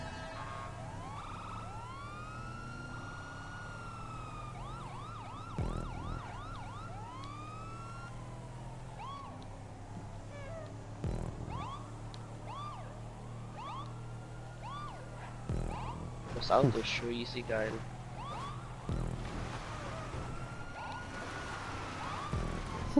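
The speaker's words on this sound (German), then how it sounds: "It's the sound of the police. Whoop whoop!" Police car siren in GTA 5 Online, a video game: rising and falling electronic wails repeat steadily over a low engine rumble, with a few louder in-game knocks and brief talking.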